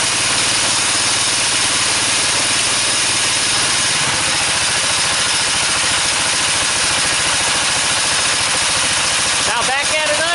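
A DC generator engine idles steadily at close range, a loud, continuous rumbling drone with an even mechanical rhythm that shifts slightly in tone partway through and runs without a break.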